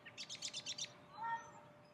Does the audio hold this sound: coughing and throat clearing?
no